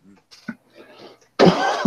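A short burst of muffled noise after quiet breathy sounds, a single close, harsh cough that lingers briefly.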